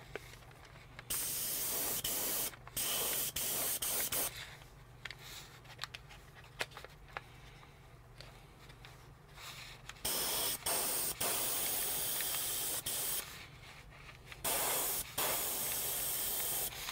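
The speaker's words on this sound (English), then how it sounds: "Sort of a light spray down over top of the tape first." Aerosol spray paint hissing onto an Atlas HO scale SD35 model locomotive, several sustained bursts of close, steady spray separated by quiet pauses.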